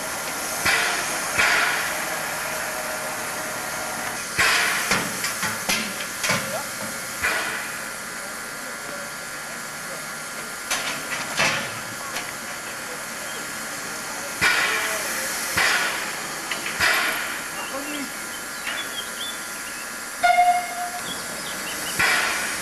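A steam locomotive, number 6001, hisses steadily while a water crane fills its tanks, a loud continuous outdoor roar broken by bursts of venting and clanks, with a faint voice now and then.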